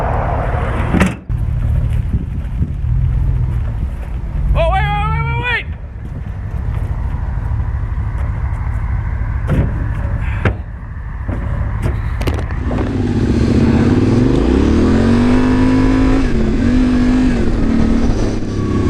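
Yamaha Tenere 700 adventure motorcycle riding on a sand trail, loud engine revving and droning up and down over steady wind rumble, with a brief sharp whine early on and people talking over the ride.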